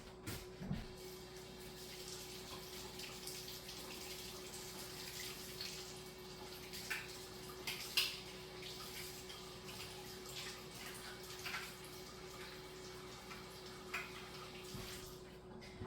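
Hot tap water runs steadily over canning lids in a kitchen sink, a faint continuous hiss and splatter with an occasional metallic clink.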